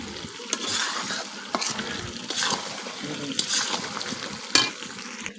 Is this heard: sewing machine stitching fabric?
no